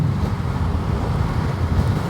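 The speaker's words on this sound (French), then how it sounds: "Le vent commence à se lever." Outdoor wind blowing steadily into the microphone near the water on a cool day, a constant low rumbling buffet with no speech.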